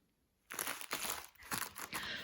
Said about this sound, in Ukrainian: Зіп-пакетики, які я посортувала, посипала, теж в одному зіп-пакетові